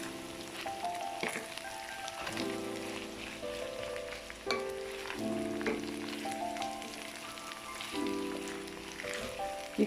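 Egg fried rice with chilli, cumin and vegetables crackles softly in a pan, a quiet continuous sizzle with light scattered pops.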